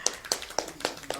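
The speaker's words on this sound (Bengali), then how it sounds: "সকলে মিলে হাততালি দাও।" A few people clap in several loose, even bursts about a quarter second apart, close and fairly light, at a celebration on a stage entertainment program.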